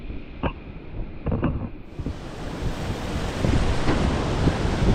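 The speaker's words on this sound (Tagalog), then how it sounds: "lakas ng ihip" Strong wind buffets the microphone by the sea at General Luna on Siargao Island, with surf washing beneath and a steady roar that grows louder and fuller partway through. No one speaks.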